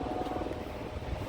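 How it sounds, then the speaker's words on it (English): A steady low rhythmic thudding of a tour helicopter's rotor flying overhead at Niagara Falls, continuous and moderately loud, with no talking. "above you can see the helicopter doing their tours"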